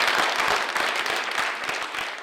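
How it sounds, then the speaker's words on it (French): An audience applauds at a French political campaign meeting, a dense, steady patter of clapping hands filling the room from start to finish with no voices over it. "J'aurais aimé qu'il n'y ait pas d'applaudissements pendant l'intervention"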